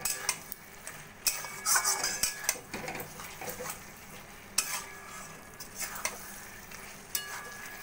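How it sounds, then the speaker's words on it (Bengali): Fried pointed gourd is stirred into a yogurt spice masala in a pan of oil, making soft, irregular scraping stirs over a low crackling sizzle, with occasional utensil clinks against the pan. "পটলগুলো ভালো করে মশলার সঙ্গে মিশিয়ে নেব।"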